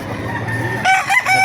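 A rooster crows at a chicken market in Baliuag, Bulacan, one close, loud crow following a moment of clucking and background noise.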